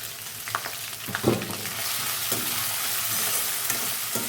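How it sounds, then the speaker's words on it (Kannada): Ginger frying and being stirred in a pan for a Kerala-style ginger curry, a steady close sizzle with a few louder scraping stirs, no talk. "ನಂತರ ಇದರಲ್ಲಿ ಶುಂಠಿ ಹಾಕಿ ಚೆನ್ನಾಗಿ ಕೆಂಪಾಗೋ ತನಕ ಹುರ್ಕೋಬೇಕು"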